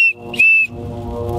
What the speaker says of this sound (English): He didn't hear my whistle.